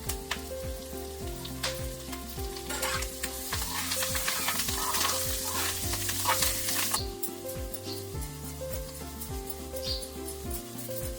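Curry leaves crackle and fry in hot tempering oil for Andhra-style rasam, a loud, close sizzle that swells and spits for several seconds, then settles to a softer steady hiss, with no voices.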